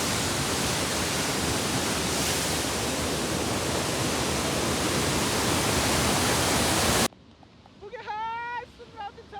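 Sundrawati waterfall pours with force in a loud, continuous rushing roar for about seven seconds, then cuts abruptly to a quieter scene where someone speaks.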